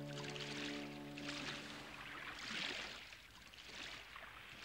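Oars splashing and water sloshing as a boat is rowed on the open sea in an animated Columbus tale, steady rhythmic washes rising and falling, with a musical tone fading out in the opening seconds.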